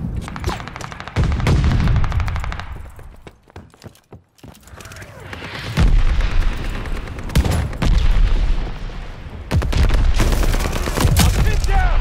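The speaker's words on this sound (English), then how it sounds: "Allies calling a mortar barrage." A mortar barrage in the video game Call of Duty: Vanguard brings loud, dense bursts of explosions and rattling gunfire in heavy waves, with a brief lull in the middle before the blasts resume.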